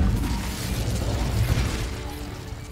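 A burst of fiery magic from the Incendio spell in Hogwarts Legacy, a loud whooshing boom followed by a rumbling roar that slowly fades, with no talking over it.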